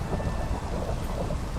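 Heavy rain and rumbling thunder in Minecraft with shaders enabled, a dense steady wash of low, loud storm noise filling the whole moment with no voices.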